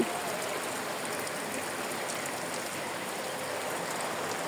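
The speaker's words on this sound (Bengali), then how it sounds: "থার্টি সেভেন ডিগ্রি সেন্টিগ্রেড তাপমাত্রায় বৃষ্টি নামছে" Rain-like spray of water falling over a poultry farm in 37-degree heat, a steady even hiss of droplets that holds constant without any voices.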